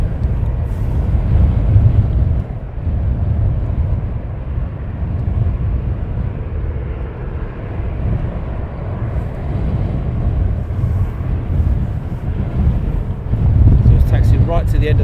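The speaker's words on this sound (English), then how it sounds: "So he's taxiing right to the end of the runway." An airplane taxis to the end of the runway at Luton Airport, heard as a steady, low, distant jet rumble mixed with wind buffeting on the microphone.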